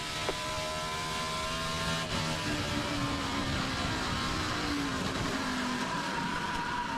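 NASCAR Busch Series race cars roar around Gateway during the 2007 Gateway 250, engines droning loudly and shifting pitch as they sweep into a corner under caution.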